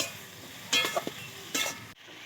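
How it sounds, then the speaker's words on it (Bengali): Radish curry with turmeric being stirred in a pan, with two short bursts of spoon scraping and soft sizzle over a quiet background, then a brief drop in sound near the end. "এখন ভালো করে মিশিয়ে নিতে হবে।"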